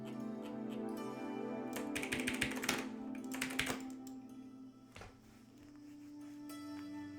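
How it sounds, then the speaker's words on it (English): Rapid typing on a computer keyboard, dense bursts of clicky keystrokes in quick runs with brief pauses, close and moderately loud over a steady low background hum. "have some insane letter per minute typing skills"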